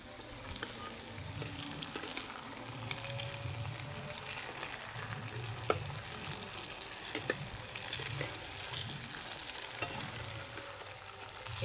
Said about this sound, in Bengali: একটু লাল লাল করে ভেজে নেব।